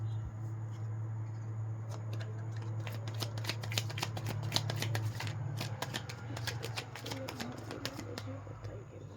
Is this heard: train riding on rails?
no